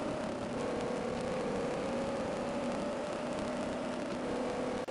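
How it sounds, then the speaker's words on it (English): A bonus car's engine in the video game Snake Bite drones as a steady, even synthetic hum with a faint tonal whine, moderately quiet and unchanging throughout, with no speech. "I just don't like the sound of the bonus cars."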